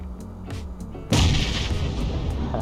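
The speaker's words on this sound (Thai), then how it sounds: "ระเบิดในบ้านระเบิดไปนะครับ" A grenade goes off inside a house in PUBG Lite with a sudden, loud, booming blast. A dense rumble follows and carries on to the end, after a few quieter thuds before it.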